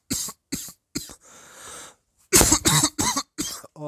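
Several sharp coughs in a row, then a raspy throat clearing, then a cluster of louder, harsher coughs, all from one nearby person with brief silences between bursts.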